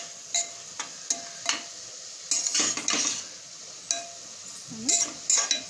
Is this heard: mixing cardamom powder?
yes